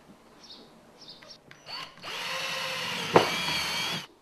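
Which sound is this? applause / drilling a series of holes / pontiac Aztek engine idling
drilling a series of holes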